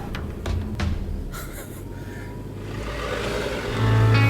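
Ford Everest 2016 SUV driving off-road: a steady low engine rumble with rattles and bumps, rising to a louder, heavier engine note near the end.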